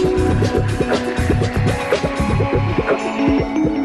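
A factory machine automatically sews a pre-cut cotton gusset into pantyhose, producing a loud, fast, regular mechanical throbbing and clatter that repeats steadily throughout.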